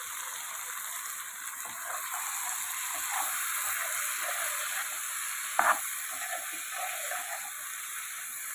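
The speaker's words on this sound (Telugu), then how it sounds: "తర్వాత మనం క్లీన్ చేసి పెట్టుకున్న కాలీఫ్లవర్ ముక్కలను కూడా ఇందులో యాడ్ చేసుకోవాలి" Cauliflower pieces drop into a pan of chicken curry, setting off a steady, close sizzle of frying with a brief sharper crackle midway as the pieces hit the hot oil.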